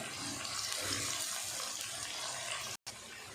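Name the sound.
finely chopped onions frying in hot oil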